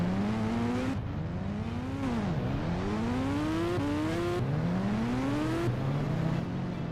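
Motorbike engine in an Indian bike driving video game, revving in rising and falling pitch sweeps through repeated gear changes, loud and steady with no talk.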